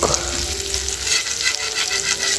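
A Kenyan chapati cooks on a hot pan, with a loud, steady close sizzle and light scraping hiss throughout and no speech.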